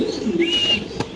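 Pigeons at a farm give a single drawn-out coo followed by a short higher call, close and fairly loud, with a brief knock near the end.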